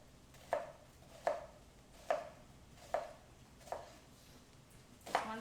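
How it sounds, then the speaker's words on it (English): A knife slices through vegetables on a cutting board in six crisp, evenly spaced cuts, close and fairly quiet, with no talk. "So now we're going to slice."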